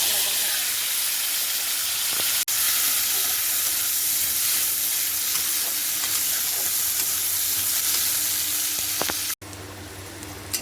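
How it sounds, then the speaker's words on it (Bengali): Bitter gourd pieces fry in plenty of hot oil in a pan, giving a loud, continuous, close-up sizzle and hiss that briefly drops out twice. "ওতে আরেকটু বেশি করে তেল দিলাম, দিয়ে এবার উচ্ছেটা ভেজে নেব"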